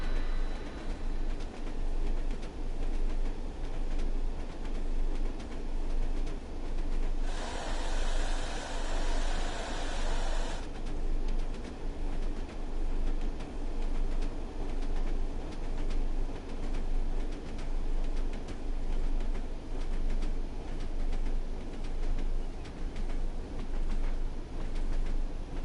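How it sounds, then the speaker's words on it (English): A passenger train running on the Tees Valley line in Train Sim World on PS4, a steady loud rumble and rushing noise throughout, with a brighter hiss for a few seconds partway through. "Love the sounds on this train."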